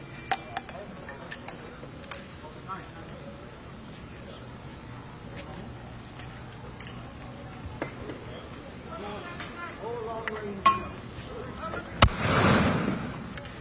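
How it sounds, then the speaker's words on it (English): Police fire tear gas at a street junction during the 1977 Bermuda riots: scattered faint pops over a quiet background, then one sharp bang near the end followed by a hissing rush, with talking throughout. "We understand that they're firing special gas down here."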